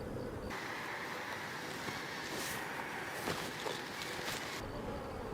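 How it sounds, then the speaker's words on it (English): Dense, steady buzzing of many honeybees crowding a nectar-heavy hive frame during a swarm follow-up inspection, a continuous close hum with faint wind rumble throughout. "There's still a lot of bees on this frame."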